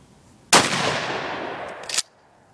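A single loud, close shotgun blast hits and rolls on for about a second and a half, ending in a brief crack as the echo cuts off, fired at a brick outdoors.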